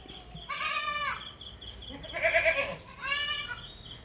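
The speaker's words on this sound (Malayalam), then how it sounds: "നല്ല അടിപൊളിയൊരു സിരോയി ആട് നല്ലോളി സൂപ്പർ ആട്" Two loud Sirohi goat bleats, each lasting about half a second, separated by a shorter nasal cry, close to the listener over a quiet background.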